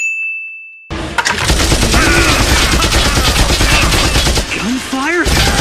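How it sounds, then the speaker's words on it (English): Loud, dense burst of rapid automatic gunfire erupts after a brief tone and near-silence, sustained for several seconds with metallic clangs. "Gunfire?"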